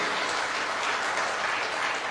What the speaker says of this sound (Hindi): give yourself a big big round of applause, एक जोरदार तालियां आप सभी के लिए